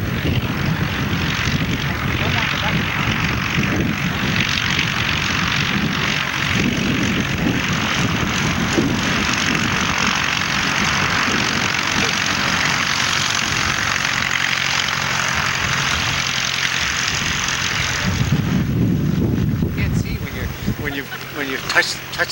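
Light propeller aircraft engine droning steadily in flight after aerobatics, loud and continuous with a change in tone near the end, while people talk over it.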